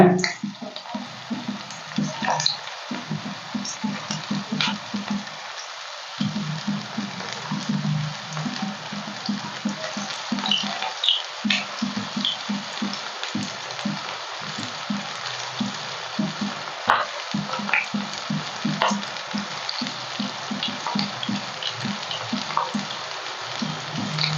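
Baby corn pieces frying in hot oil for baby corn 65: a steady, close bubbling sizzle with lots of small crackles and pops.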